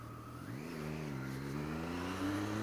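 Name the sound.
Triumph Street Triple 675cc motorcycle exhaust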